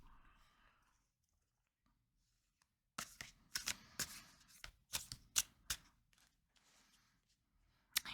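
Fortune cards being shuffled by hand, a run of crisp riffling snaps and flutters close by after a quiet moment.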